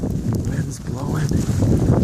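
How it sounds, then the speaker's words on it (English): Wind roars steadily in a snowy blizzard, a loud, continuous buffeting rush that batters the microphone, with faint voice sounds mixed in. "Wind's blowing."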